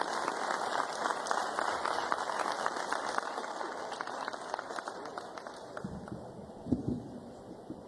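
Applause from a crowd for Colombian National Police officers at an outdoor command-handover ceremony, a thin, distant patter of clapping held steady for several seconds, with a brief louder thump near the end.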